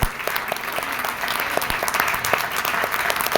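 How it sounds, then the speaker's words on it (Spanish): Church congregation clapping in praise, a dense, continuous round of applause from many hands filling the room at steady loudness. "darle unas palmas al Señor, porque Él es digno que con tus palmas le alabes"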